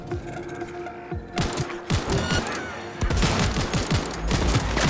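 Weapons firing in the video game Cyberpunk 2077, a dense string of rapid gunshots in fast bursts, loud and continuous with heavier volleys later, with no clear talk.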